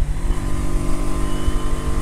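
Honda Shadow motorcycle riding along, its engine a steady, loud low rumble with strong harmonic drone throughout, close and continuous with no voices.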